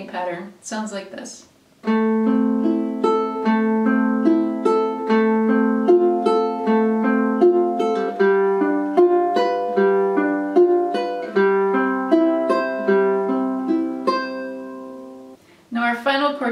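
A ukulele fingerpicked pattern plays clearly and close in an even, rolling rhythm, with a voice talking briefly before it starts and again after it ends.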